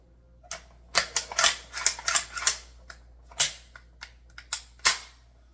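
HK G3K 7.62 rifle, built from an HK91, being cleared with its magazine removed: a quick series of sharp metallic clacks and snaps, close and crisp, in uneven bursts with short pauses.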